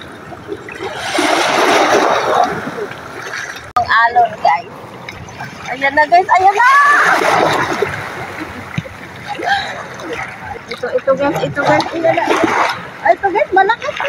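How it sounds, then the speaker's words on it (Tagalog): Ocean waves splash and wash onto a sandy beach at a resort in Maragondon, Cavite, in repeated loud surges with a trickling wash between them, while people talk over the water. "Ang alon guys."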